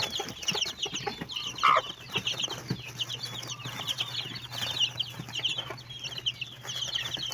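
A hen and her eight-day-old chicks cluck and peep softly while eating, with scattered high cheeps, a brief burst of wing flapping and occasional scratching, fairly close and without talk.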